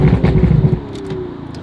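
A loud, close Stage 4 tuned Ferrari 488 exhaust with open flaps burbles with rough pulsing, then eases into a lower rumble.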